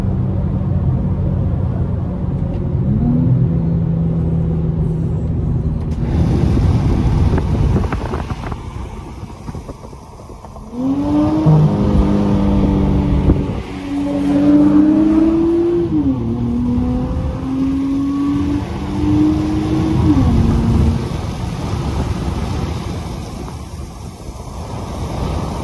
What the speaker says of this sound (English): I'm gonna do a little pull.